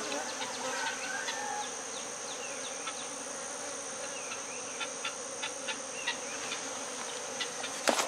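Steady, dense buzzing of many honey bees close by as they are put into a hive, with a constant hum and occasional brief louder passes, no talking.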